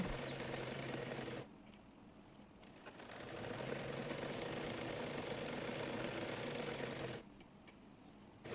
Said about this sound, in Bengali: মোহরি অনুযায়ী বডি পার্টের দিকে হাতাটি সেলাই করে নেব